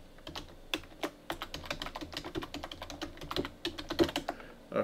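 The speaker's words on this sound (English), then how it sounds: "So we're going to type in site name of Carl." Quick, uneven typing on a computer keyboard, close and clear, with rapid key clicks in bursts and short pauses between words.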